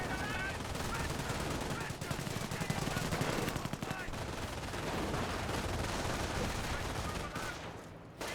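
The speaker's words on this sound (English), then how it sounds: "Good shots there onto the infantry section." Rapid machine-gun and rifle fire rattles almost continuously in a Company of Heroes battle, bursts hitting an infantry section, with a voice talking over the shooting.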